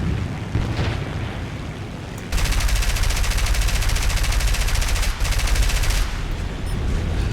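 Artillery and heavy gunfire in the War Thunder video game, a loud dense burst of rapid booming shots lasting several seconds amid continuous battle rumble.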